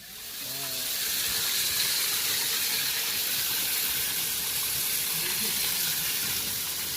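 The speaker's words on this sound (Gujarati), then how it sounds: "આ ચકલી કેમ ચાલુ મેલી" An open household tap left running: a steady, broadband hiss of flowing water that holds at an even level for several seconds, with a brief voice fragment near the start.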